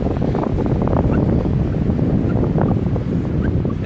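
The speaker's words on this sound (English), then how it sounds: "We got a lot of wind, so I'm going to try to talk loud so you can hear us" Strong outdoor wind on a mild day buffets the microphone in a steady, loud roar. The rumble stays continuous and dense throughout, with no one speaking.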